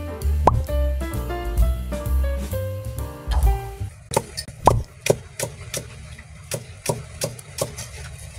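Siling labuyo chilies dropping into a cooking pot of balbacua with cow skin, several clear plopping thuds in quick irregular succession, close and loud, with no talk over them.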